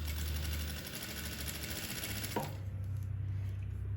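A straight-stitch sewing machine runs along a trouser seam with a continuous close mechanical whir, then stops with a small clunk and leaves a lower hum.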